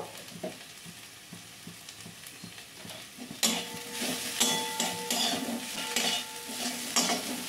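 Banana flower being stirred with turmeric in a frying pan, a soft sizzle with light scraping at first, then a louder burst of sizzling and stirring clatter that continues to the end.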